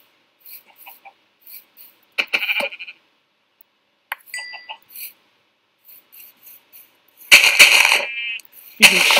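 Minecraft sheep bleats come in several short, separate bursts with quiet gaps between them, and the loudest calls land near the end. There is no talking over them.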